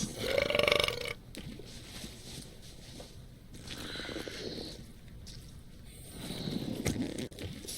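Several long, loud cartoonish burps from a burping contest in the video game Return to Monkey Island, one after another, each rumbling and gurgling for a second or two.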